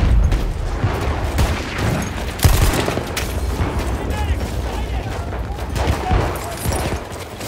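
Dense machine gun fire and explosions in Battlefield 1, rapid overlapping bursts and booms of battle with shouted voices mixed in throughout.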